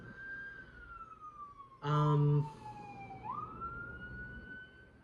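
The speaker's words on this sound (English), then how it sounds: "These sirens." A wailing emergency vehicle siren rises and falls in long sweeping tones, fairly distant and steady, with a brief loud burst of horn-like blare partway through.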